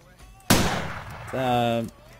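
One sharp loud gunshot from Arma III with a quick decaying tail, followed by a short voice.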